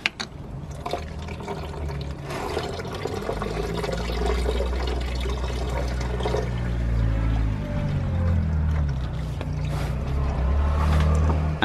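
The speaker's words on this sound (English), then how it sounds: "we can then repeat the process of draining the coolant again" Coolant draining from a BMW radiator, a steady gurgling, splashing pour of liquid that runs continuously and fairly loud, with low rumbling underneath and no speech.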